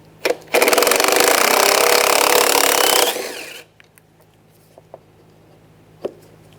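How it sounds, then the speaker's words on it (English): A power driver with an 8mm socket spins screws out of a Dodge Durango front door, one loud continuous whirring burst lasting about three seconds, followed by a few faint clicks and taps. "Now we're going to take these 4 screws out using an 8mm socket."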